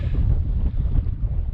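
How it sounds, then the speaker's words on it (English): Loud, low buffeting wind noise rumbling against a microphone outdoors in the winter mountains of Angus, Scotland, on the Invermark estate, steady and close, with no other sounds standing out. "it is windy, so I apologise for the noise."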